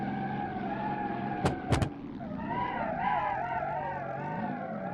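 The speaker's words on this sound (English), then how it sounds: "I'm barely touching the throttle most of the time. And I'm just spinning the wheels." Car wheels spinning in the BeamNG.Drive driving game, a steady engine drone with wavering pitch under a brief sharp tire screech or two, continuous and fairly close.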